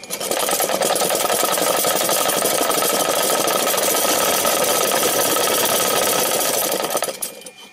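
An electric motor spins a wobbling magnet that rises by magnetic repulsion, producing a steady, loud whirring and buzzing drone with rapid rattling that holds even for several seconds and then quickly winds down.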